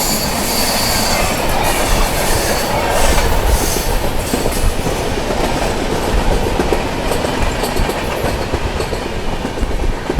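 Grand Trunk Express train from Chennai Central to New Delhi, heard from inside a 2AC coach: loud steady rail rumble with rhythmic wheel clatter and sharp squealing of wheels on the track, no voices.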